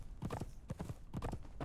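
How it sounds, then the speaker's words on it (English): Rhythmic clip-clop hoofbeats of a sprinting horse in the video game Conan Exiles, clear, close and evenly paced, in quick groups of strikes with no voices over them. "my horse is still sprinting even without stamina."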